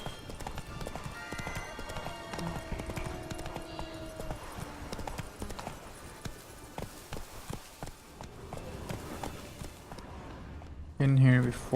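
Roach, a horse in The Witcher 3, gallops with a steady rapid clip-clop of hooves, close and continuous, layered over game music, with a short louder burst near the end.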